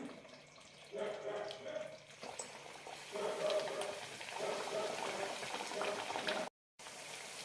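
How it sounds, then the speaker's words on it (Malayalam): Chirota snacks frying in medium-hot oil give off a steady bubbling crackle close by, growing fuller after the first second, with a brief dropout near the end. "ഇതെല്ലാം വറുത്തെടുക്കാം മീഡിയം ചൂടായ എണ്ണയിലേക്ക് ഇടാം"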